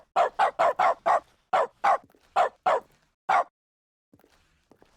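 A dog-bark sound effect from the video game The Stanley Parable: a quick run of about nine sharp, loud barks in uneven bursts, followed by near silence with a few faint ticks.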